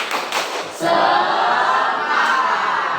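A classroom of students shouts together in one loud burst after a rhythmic clap cheer, the massed voices sustained and echoing through the room following a few thumps.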